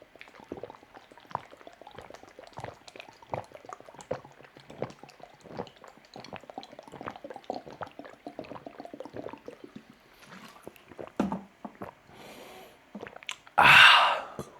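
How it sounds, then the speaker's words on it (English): A person gulps down water very fast, a quick run of close, wet swallowing clicks for about ten seconds, then a loud breathy burst at the end. No one speaks. "I'm just gonna drink this water, and I drink water very fast"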